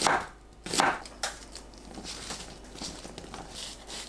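A knife slices onion at half-centimetre intervals on a cutting board, a few distinct sharp cuts near the start, then quieter, denser chopping, close up with no talking.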